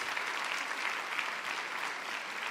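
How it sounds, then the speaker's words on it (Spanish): A church congregation applauds a 93-year-old sister, a steady, even wash of clapping from many hands, fairly faint and distant, with no voices over it. "Un aplauso para usted, querida hermana."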